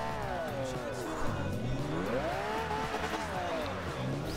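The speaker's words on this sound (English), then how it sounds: "This is where you're going to start drifting." Continuous car engine roar with sweeping tire squeal as a car drifts in the racing game Forza Horizon 2, loud and sustained, with a voice talking over it.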